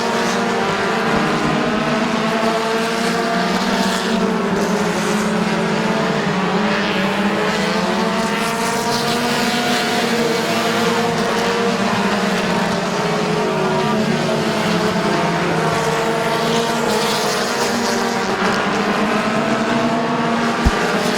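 Race cars at Midvale Speedway battle for the lead late in a race, producing a steady, loud, layered engine roar with overlapping harmonic drones that rise and fall slightly as the pack circles the track.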